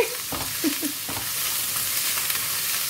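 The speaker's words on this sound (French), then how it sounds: "Maintenant, je vais rajouter mes champignons. Voilà, les champignons, ça va commencer à sauter." Mushrooms frying and sizzling in a pan while lasagne white sauce is made, a steady close hiss with a few light stirring scrapes near the start.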